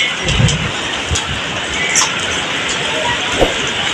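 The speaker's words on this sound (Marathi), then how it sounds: "गारांचा पाऊस सध्या सुरू झालेला आहे" Hail pounds steadily on surfaces in a dense, continuous roar, with a few louder thumps and a voice faintly beneath, in Chhatrapati Sambhajinagar.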